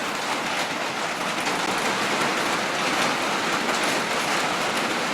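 Steady rain pours outdoors at a gunstock carving demo, a dense even hiss of drops on surfaces with no pauses, fairly loud and continuous, no talking.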